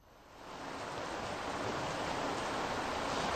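Heavy monsoon rain falls near the swollen Ganga river at Rishikesh, making a dense, broad hiss that swells in the first half-second and then holds steady and loud, with no voices.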